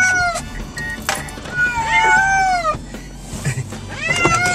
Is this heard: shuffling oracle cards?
no